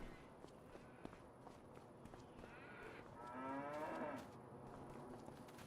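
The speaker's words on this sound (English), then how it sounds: "we got all different kinds of cows over here" Cows at a farm park in a farming game low and moo a couple of times, a drawn-out call rising midway, over soft footsteps and quiet ambient farm noise.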